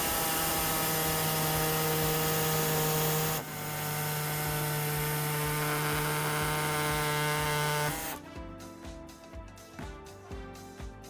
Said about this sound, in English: For us here, we do have our air saw, so we'll be using that to do it today.